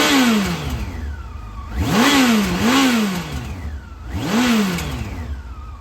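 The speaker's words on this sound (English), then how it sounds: "I'll give it a few revs, you can hear how she sounds." A 2004 Yamaha FJR1300 sport-touring motorcycle sits stationary as its engine is blipped three times from idle, each rev climbing sharply and falling back, loud and close with idle between.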